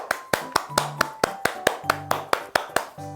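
A small group clapping in time after a church Bible correspondence course session wraps up, about a dozen sharp, evenly spaced claps in unison, close and fairly loud, with no talking.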